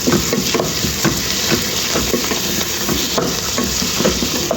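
Green chillies and coriander leaves sauté in a hot pan with a continuous loud sizzle, while a spoon stirs them in regular scraping strokes close by.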